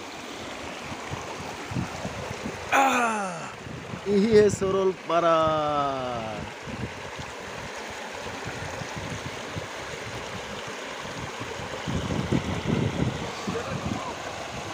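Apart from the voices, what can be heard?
river water flowing at Saralpara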